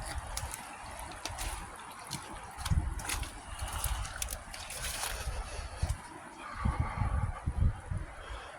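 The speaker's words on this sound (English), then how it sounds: "Got water coming through here." Water trickles and splashes beside the Weardale Railway between Stanhope and Frosterley, a continuous faint outdoor burble with some louder sloshing surges and light wind.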